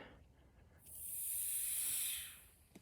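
Vacuum leak in a line system, a faint airy hiss that swells in softly, holds steady for about a second, then fades away, heard close with a couple of small clicks and no speech.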